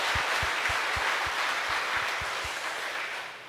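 Audience applauding at a charity concert for heart patients, steady massed clapping with a few rhythmic low thumps in the first two and a half seconds, fading slightly toward the end.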